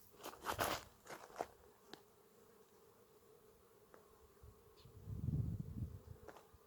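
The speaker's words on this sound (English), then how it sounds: "That's hundreds of bees right behind me on this bush, having lunch." A dense, steady buzzing of hundreds of bees on a bush in the southern Arizona desert fills the background, with a few louder close passes and a swell of low droning near the end.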